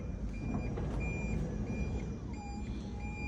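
The power rear door of a JAC RF8 minivan opens at the push of a button, giving off a series of thin, high electronic warning beeps in short repeated bursts over a low, steady background hum.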